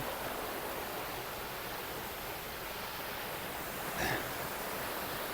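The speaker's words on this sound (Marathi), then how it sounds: "हा झरा किंवा याला आपण पर्याय म्हणू शकतो अतिशय सुंदर पाणी इकडून वरून येतं" Mountain spring water flows down from above in a steady, close, hissing rush, with no voices over it.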